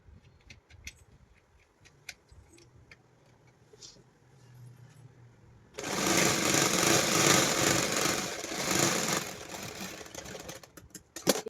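A domestic sewing machine runs a thin seam while palazzo pants are stitched. Light clicks and handling come first, then a loud, steady whirring motor runs for about six seconds. It ends with a few clatters.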